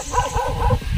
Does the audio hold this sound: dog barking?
yes